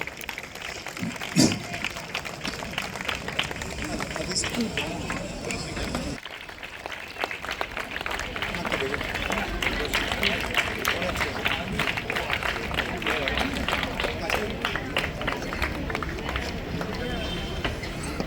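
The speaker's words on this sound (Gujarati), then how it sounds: "તો તાળીઓનો ગળગળાટ કન્ટિન્યુ રાખીશું" Sustained applause from a large crowd at an Ambedkar Jayanti celebration in Kalwada, Valsad, dense rapid clapping that pauses briefly and then swells again, loud and continuous.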